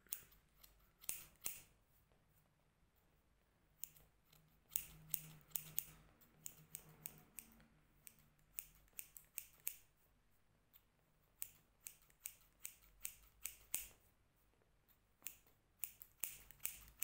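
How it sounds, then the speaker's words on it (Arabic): Scissors and a comb trim a man's hair, giving sharp, close snipping clicks in irregular bursts and single snips over a quiet background. "سنقوم بقصه يعني بواسطة المشط والمقص على هذا الشكل"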